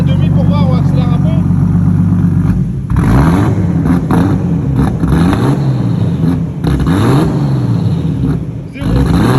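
A turbocharged BMW E36 engine revs up and down in repeated rising and falling sweeps, loud and close, while people talk over it.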